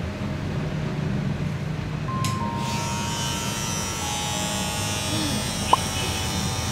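Electric hair clippers giving a child a buzz cut, a steady close buzz running throughout with a brief click near the end, under low background noise.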